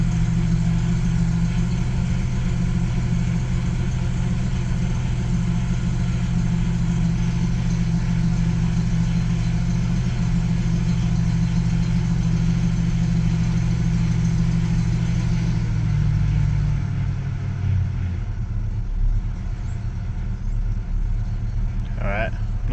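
A Ford Fairlane engine idles with a steady, deep, loud rumble, settling slightly lower near the end, and someone talks over part of it.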